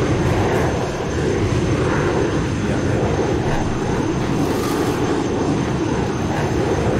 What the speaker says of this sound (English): You're just full power in a jet, just smoking along.